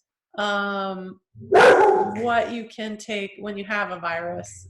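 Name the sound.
dog barking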